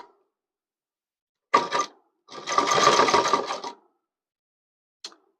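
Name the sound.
sewing machine stitching child's pathani kurta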